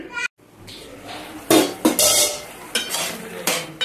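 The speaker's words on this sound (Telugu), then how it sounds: "ఒకసారి బాగా కలబెట్టుకోవాలి" A spoon stirs Rayalaseema-style peanut chutney with tomatoes cooking on low heat in a pan, producing close, loud scraping strokes and clanks against the metal with soft bubbling between them.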